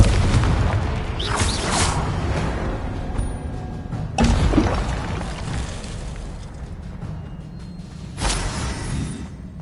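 Confringo blasting spell in the Hogwarts Legacy video game, three deep booming explosions spaced a few seconds apart over a steady rumbling game-soundtrack bed, loud and full, no talking.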